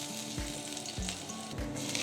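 Desi ghee sizzling in a pan for a saag tadka, a steady close crackle with a few soft low thumps, no voices.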